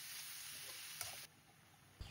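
Wild termite mushrooms and vegetables stir-fry in a pan in a home Northern Thai kitchen, giving a steady soft sizzle broken by a couple of sharp scraping stirs, fairly quiet and without talk.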